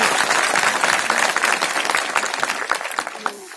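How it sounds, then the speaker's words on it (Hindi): An audience at a direct selling company seminar breaks into loud, sustained applause, dense clapping that stays strong throughout and thins slightly toward the end. "ये आपके लिए जबरदस्त तालियां बजाइए इसके लिए।"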